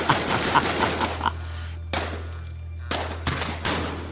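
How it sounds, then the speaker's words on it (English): A flashbang grenade detonates in a dramatized crime scene, a sudden loud burst followed by further sharp cracks and blasts over a low steady hum. "Flashbang."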